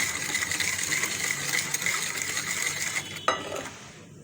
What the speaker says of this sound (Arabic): احاول بقى ادوب السكر في السوائل دي